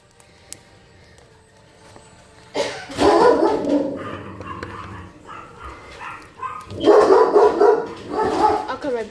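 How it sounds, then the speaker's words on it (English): A dog barking at a squirrel, bursts of loud close barks and yips in two bouts separated by a quieter gap, with some whimpering and a voice mixed in. "My dog trying to bark at a squirrel"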